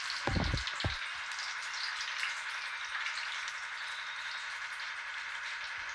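Slit green chillies frying in hot oil for chicken pakoda, a steady dense sizzle with a couple of loud low pops from bursting chillies near the start, continuing alone without talk.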